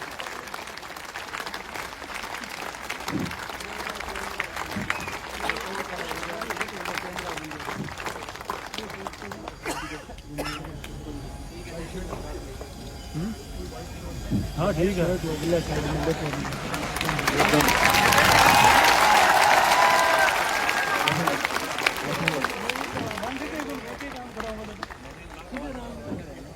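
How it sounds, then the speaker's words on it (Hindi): Audience clapping at an educational lecture event in Suratgarh, India, rising to a fuller burst of applause midway, with people talking and a brief spoken exchange before and around it. "आपकी तालियां रुकनी नहीं चाहिए"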